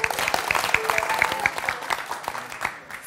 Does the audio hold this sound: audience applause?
yes